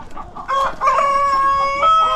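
A rooster crows loudly and close on a poultry farm, a drawn-out cock-a-doodle-doo with clear harmonic tones, with clucking from nearby hens just before it.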